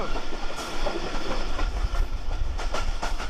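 Steady clickety-clack of the Pakistan Express rolling between Islamabad and Lahore, with a continuous low rumble and rhythmic wheel-on-rail clatter heard from inside a passenger compartment, with no talking.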